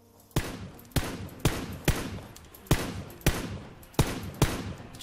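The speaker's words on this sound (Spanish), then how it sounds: "alguien le está disparando desde las casas" Eight sharp gunshots ring out in PlayerUnknown's Battlegrounds, spaced irregularly about half a second apart, each a crisp crack with a short decaying tail, moderately distant.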